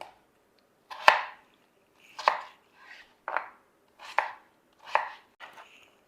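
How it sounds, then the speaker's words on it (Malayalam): A knife chops potatoes into small pieces on a cutting board in separate sharp strokes, about eight of them at an uneven pace, close by with no talking. "ഉരുളക്കിഴങ്ങ് ചെറിയ പീസാക്കി കട്ട് ചെയ്തെടുക്കാം"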